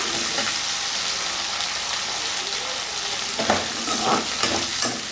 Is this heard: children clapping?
no